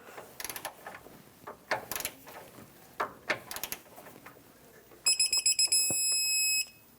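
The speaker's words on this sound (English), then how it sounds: "Torque that one as well to the same torque" A torque wrench ratchets with a series of sharp clicks on a 2003–2009 Dodge Ram 2500 track bar bolt, then a beeping alert and a final run of quick clicks as it reaches torque.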